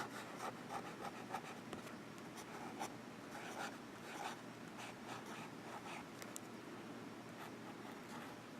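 A Sailor Pro Gear Slim fountain pen writing on paper, a faint, steady scratchy rasp of nib on the sheet with small stroke-by-stroke pulses, close and quiet.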